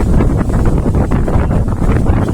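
Strong wind by a river, roaring and buffeting loudly across the microphone without a break, with a faint wash of water underneath.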